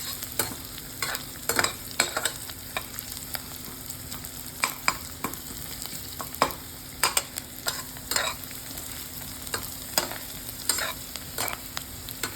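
Onions frying in a pan with crushed garlic and ginger: a steady low sizzle broken by frequent sharp scraping clicks as a spoon stirs, close and fairly quiet, with no talking.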